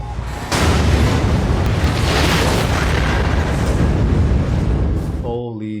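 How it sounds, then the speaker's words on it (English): Massive explosion from the Chernobyl TV series: a sudden loud blast that swells into a sustained, dense roaring rumble for several seconds before cutting off, with a voice emerging right at the end. "What an explosion."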